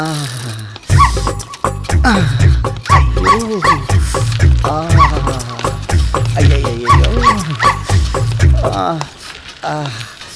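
A dog barks and yips repeatedly in close, loud bursts, mixed in with a person's anxious talking throughout.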